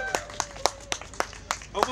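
A few scattered hands clap at uneven intervals for performer Lady Tara at an outdoor Edinburgh Christmas Market, the sparse, thin claps mixed with a voice speaking.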